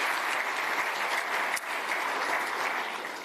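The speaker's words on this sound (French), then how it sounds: "Et je vous demande d'applaudir chaleureusement les initiateurs de cette initiative." Warm applause from an audience at a speech by the Prime Minister of Togo, dense steady clapping from many people at moderate volume, briefly dipping midway before carrying on.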